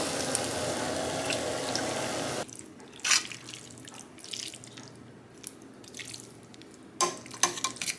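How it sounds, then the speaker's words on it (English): Starchy pasta water is poured into a pan of spaghetti in a home kitchen, first as a steady rushing splash, then giving way to quieter scattered clinks, drips and handling sounds. "I like to get some of the pasta water in there as well"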